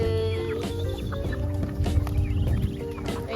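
Chickens cluck steadily at an animal-feeding spot, their calls layered over a busy, continuous background of farmyard noise, with no voices clearly heard.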